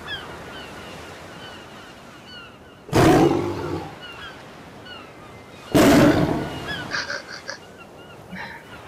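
A tiger in the video game Ark gives two loud, sudden roars a few seconds apart, each trailing off, over a steady ambient game background with no talk.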